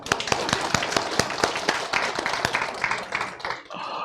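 A church congregation claps after a sermon series ends, with distinct, fairly rhythmic claps from a modest group, moderately close and fading out near the end.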